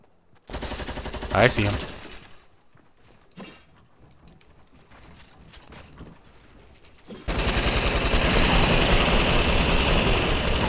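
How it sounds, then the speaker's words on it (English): Fortnite gunfire comes in rapid automatic bursts, first a loud volley, then scattered shots under a player's brief speech, and finally a sustained, intense stream of nearby firing. "somebody's shooting at me"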